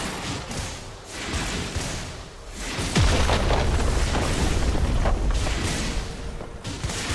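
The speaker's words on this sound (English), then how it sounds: "Red team's turret has been destroyed." A turret being destroyed in League of Legends sets off a loud, close booming explosion that erupts suddenly and rumbles on for several seconds over a busy game soundscape.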